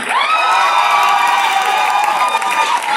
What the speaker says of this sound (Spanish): un aplauso sensacional y maravilloso